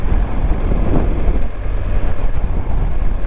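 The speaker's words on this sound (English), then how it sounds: "Quite windy out here today actually." Steady, loud wind buffets the microphone on a motorcycle riding through Spain, a continuous roar with gusting swells and no talking.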